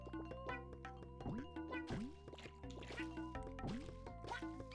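In Super Mario Sunshine, Yoshi wades through water while game music plays, with repeated sliding splashes and watery squishes over tonal background notes, close and steady for the whole stretch.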